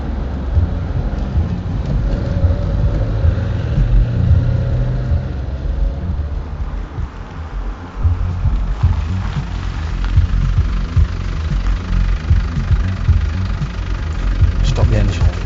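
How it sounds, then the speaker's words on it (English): A car engine idles steadily and loud through a rainy scene, a constant low rumble under the patter of rain and rumbling thunder. "Stop the engine."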